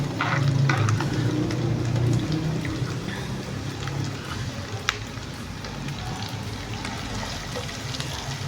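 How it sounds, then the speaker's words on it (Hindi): Chopped onion and garlic sizzle steadily in a hot pan, a dense, even crackle that stays close and continuous with no talking over it. "इसको अच्छी तरह भूनना है जब तक इसकी खुशबू ना आना शुरू हो जाए"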